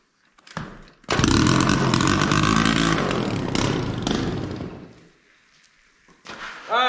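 A 1979 Yamaha moped that sat unused for years, its small engine revving loud and close in a rough, buzzing burst that fades, then cuts back in sharply near the end.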